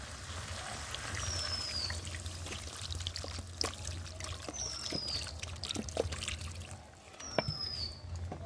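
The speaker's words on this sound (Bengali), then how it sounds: "এবার এর মধ্যে জল দিয়ে দেবো।" Water is poured into a pan of chicken kosha curry, a soft continuous trickle and splash with faint clinks and a low background hum.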